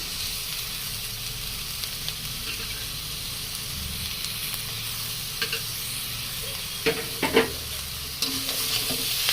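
Chopped carrot and beetroot stir-fried with browned onions in a pan: a continuous close sizzle and hiss, with scraping stirs and a few spatula knocks toward the end.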